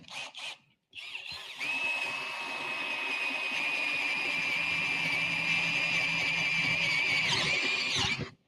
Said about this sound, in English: And start drilling here.